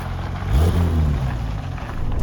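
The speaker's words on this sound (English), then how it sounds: "Sounds an awful lot better now it hasn't got manifolds that blow." A Porsche 996 Turbo engine running after its leaking exhaust manifolds were repaired, a steady low rumble that swells briefly as it picks up, then settles into an even drone, close and alone without talk.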